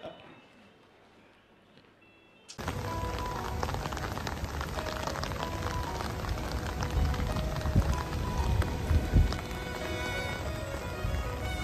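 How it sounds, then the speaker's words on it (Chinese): Rain falling on an outdoor night concert and dinner gathering: after a quiet start, a sudden steady patter of drops on surfaces sets in and continues with dense, irregular taps. "感受一下下雨的狂欢夜啊！"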